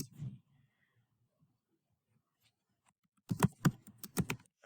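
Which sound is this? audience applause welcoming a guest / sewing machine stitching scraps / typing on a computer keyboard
typing on a computer keyboard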